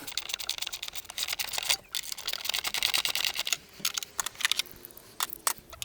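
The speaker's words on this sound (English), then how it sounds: "we're going to break out our 1/4 inch ratchet with a 10mm deep socket on it, and we're going to loosen this tie down" A 1/4 inch ratchet turning a 10mm deep socket loosens a battery tie down on a 2012-2018 Ford Focus, making rapid close clicking in bursts with brief pauses between them.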